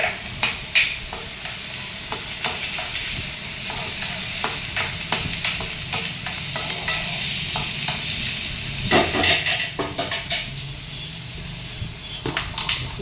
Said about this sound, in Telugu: ఇప్పుడు దీంట్లో కరివేపాకు వేస్తున్నాం.